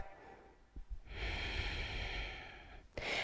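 A long, steady breath during yoga practice, close and clear, drawn out for nearly two seconds before a brief pause and another quick intake of air.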